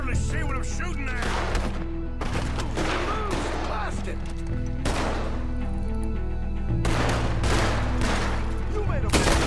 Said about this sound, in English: See what I'm shooting at!